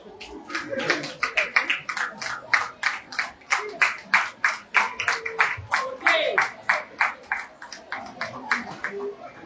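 Rhythmic group clapping in a steady beat, close and lively, greeting candidates at an event, with voices and some cheering underneath.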